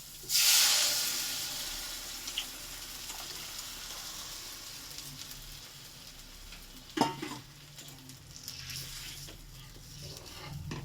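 Moong dal with a rohu fish head cooks at a boil in a pot, giving a steady bubbling hiss with a loud burst at the start and a clatter of utensil stirring partway through.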